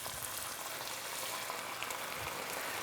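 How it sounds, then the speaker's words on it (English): Shrimp pan deglazed with Honey Jack Daniel's bourbon whiskey, a soft continuous bubbling sizzle with faint crackles that stays quiet and even throughout. "You're going to deglaze the pan."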